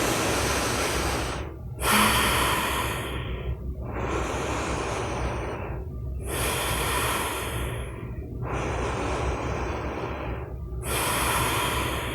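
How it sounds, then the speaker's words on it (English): Deep, slow yoga breathing: long, audible inhales and exhales through the nose alternate with short pauses, close and breathy, about three full rounds with no talk. "Take a couple more rounds of deep inhales,"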